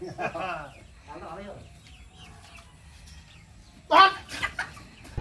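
Backyard chickens cluck and squawk in short bursts in the rain, with one loud, close squawk near the end and quieter clucks between.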